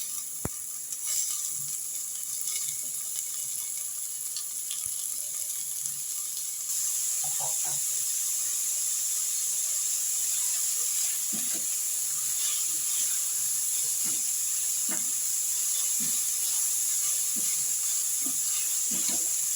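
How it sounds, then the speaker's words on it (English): Finely cut onions hit a hot pan already holding cloves and peppercorns, giving a steady bright sizzling hiss that swells slightly partway through, with scattered soft pops and stirring clinks close by. "I'm going to add the finely cut onions."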